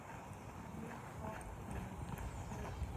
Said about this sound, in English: Then we want a bit more of a ranchy trot.